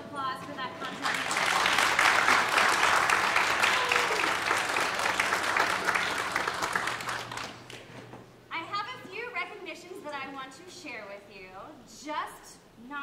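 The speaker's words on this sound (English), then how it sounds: "Please give them one more round of applause for that contribution." Concert audience at a high school choir concert and senior recognition applauds the choir, a loud sustained burst of clapping for several seconds that fades out as a speaker's voice takes over.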